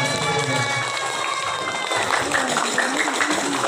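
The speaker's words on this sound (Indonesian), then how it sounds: "Tepuk tangan" Applause from supporters at a primary-school science quiz final, a broad continuous clatter of clapping and crowd noise with faint cheering, steady and fairly loud throughout.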